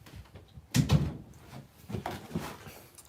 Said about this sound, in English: I'm gonna go let her out the door.